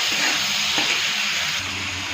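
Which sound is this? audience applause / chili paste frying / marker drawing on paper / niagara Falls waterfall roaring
chili paste frying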